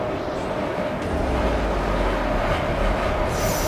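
A train in a sci-fi action scene rolls on with a steady, loud low rumble and rattle that rises slightly partway through, with a brighter hiss creeping in near the end.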